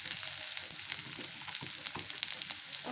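Dried chili and ginger-garlic paste hit already-fried onions in a pan for tomato chicken bhuna, giving a steady close crackling sizzle with scattered pops and light stirring scrapes, no voices.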